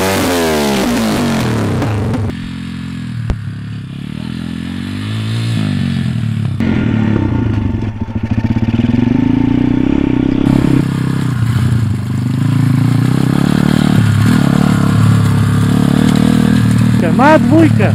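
A pit bike motorcycle engine, ridden by a learner in second gear, revs and drones loudly and continuously while moving, rising and falling with throttle, with clattering and scraping around it and people talking over it.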